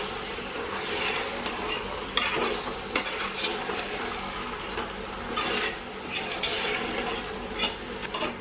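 Country chicken pieces are stirred around a hot pan for biryani, a steady sizzle broken by repeated scraping and clattering strokes of the spoon, close and fairly loud, with no talking.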